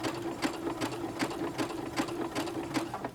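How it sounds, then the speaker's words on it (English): A sewing machine stitches a manual buttonhole at a steady pace, its needle thumping in an even rapid rhythm of about three strokes per second over a constant motor hum, close and alone. "Your sewing machine is going to function much more smoothly if you sew at a nice steady pace"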